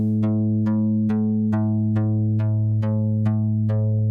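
A modular synthesizer holds one steady pitched note, retriggered about every half second in an even pulse. Each hit brings a bright plucky attack that fades back into the sustained harmonic tone, close and clear with no talking.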